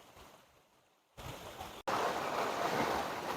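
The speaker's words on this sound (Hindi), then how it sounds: "यहाँ पर बहुत ही खूबसूरत झरने की कलकल आवाज़ आ रही है" Water from a forest waterfall rushes with a steady broadband hiss. It starts faint, jumps louder partway through after a brief cut and stays loud to the end, with no talking.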